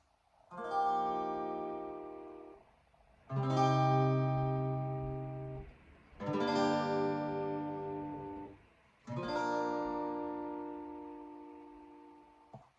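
An acoustic guitar strums four sustained chords in turn, each ringing out for a couple of seconds before the next, with no voice.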